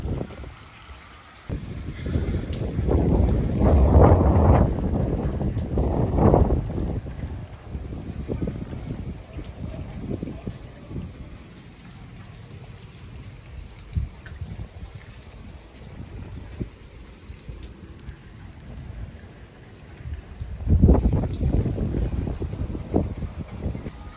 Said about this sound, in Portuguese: Com rajadas de vento muito forte